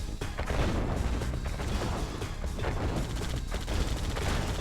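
Tank battle in the strategy game Red Alert 2: a steady wash of dense overlapping cannon and gunfire, continuous and mid-distance, with no voices.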